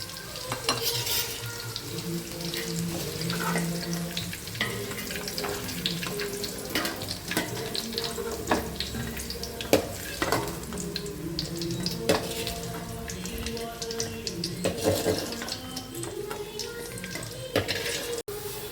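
Brinjal pieces frying in oil in a pan, sizzling steadily with a spatula scraping and stirring now and then, plus occasional clinks of the pan, close and continuous with no talk.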